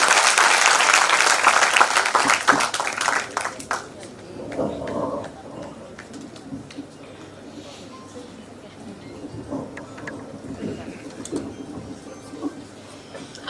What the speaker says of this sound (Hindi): जोरदार तालियों में बुलाइए ऐश्वर्या।